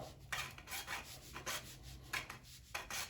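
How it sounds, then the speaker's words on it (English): A hacksaw cuts PVC pipe by hand without a vise, giving a steady rhythm of short rasping back-and-forth strokes, close and fairly quiet, with no talking. "This is where having a PVC saw is much better than a hacksaw."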